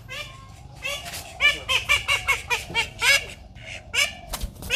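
Repeated nasal honking quacks from a call duck, fairly close and loud, coming in bursts across the whole stretch with a few short pauses.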